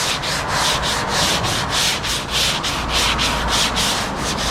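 Steady back-and-forth rasp of hand sanding on a car body panel, rhythmic strokes repeating about every half second, close and continuous with no talk.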